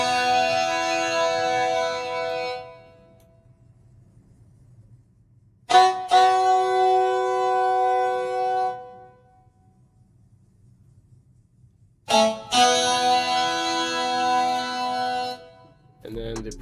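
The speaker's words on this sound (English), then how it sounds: "I added some horns." Sampled brass horns from a sound kit play sustained, reverberant chords in three separate phrases with gaps of quiet between them, a short stab closing the passage.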